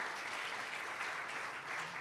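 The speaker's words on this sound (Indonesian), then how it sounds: "Tepuk tangan yang meriah buat Tuhan." A church congregation at an online worship service applauding, dense steady clapping filling the room at an even level.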